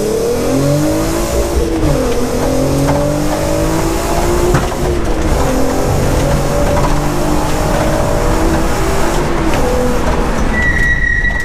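A Nissan Skyline R32 accelerates hard on a road after warming up, its engine climbing through several gears with rising revs and brief dips at shifts, loud and close from inside the car.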